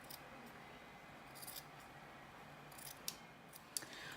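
Scissors snip along the outer edges of a fabric dress collar, a few soft, quick cuts spaced apart over a quiet room background.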